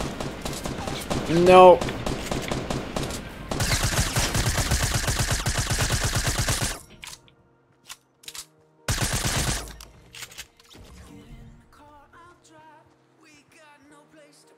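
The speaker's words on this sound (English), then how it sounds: "Please don't shoot at me." Rapid automatic gunfire in the battle royale video game Fortnite, sustained loud bursts of shots with pauses between, while a player talks over the action.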